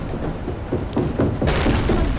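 Submarine deck gun firing in Silent Hunter 3, a series of heavy booms over a constant low engine and sea rumble, with a sharper, louder blast near the end.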